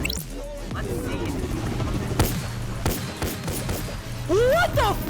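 Gunfire in the VR game Bonelab, with several sharp shots scattered across the clip amid background game noise, and a voice rising near the end.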